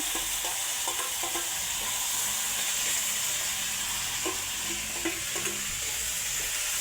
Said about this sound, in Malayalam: കടുക് പൊട്ടിച്ച് കഴിയുമ്പോൾ ഇത് വഴറ്റണേ.